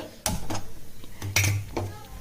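Small pan being set onto a gas stove for making Rayalaseema chicken majjiga pulusu, a few metallic clanks and scrapes of cookware on the burner, close by.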